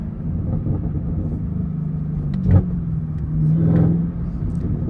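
A Camaro ZL1 1LE is driven from the cabin with a steady low engine drone, a brief sharp pop near the middle and a swelling rev afterward, with no talking.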